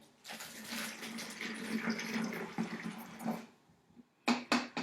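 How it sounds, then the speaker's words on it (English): Hydrogen peroxide pours into a container for an elephant toothpaste experiment, a soft splashing liquid stream lasting about three seconds, followed by a few brief louder clunks and splashes near the end. "So I'm going to take my hydrogen peroxide, we are going to pour it right inside."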